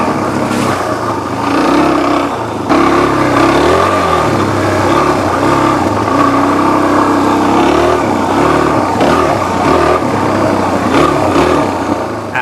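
A Suzuki DRZ400 dual-sport motorcycle on Dunlop D606 street tires rides an off-highway trail, its engine droning steadily and loudly throughout with rising and falling revs as the throttle changes, close to the rider.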